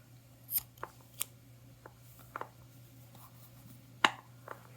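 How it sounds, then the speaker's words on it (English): Scissors snipping crochet yarn at a work table, a handful of short crisp cuts spaced irregularly, close and fairly quiet over a steady low hum. "Now we have to cut the yarn"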